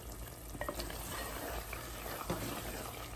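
A spoon stirs finely chopped coriander leaves and lemon juice into a mutton curry in a pan, giving a soft steady sizzle with scattered small clicks and scrapes, faint and close.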